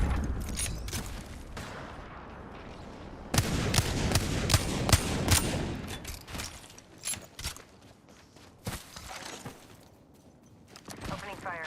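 Rapid exchanges of gunfire in an Apex Legends battle royale match, sharp repeated bursts and automatic volleys, loud and close at times, with footsteps, game voice callouts and talking mixed in.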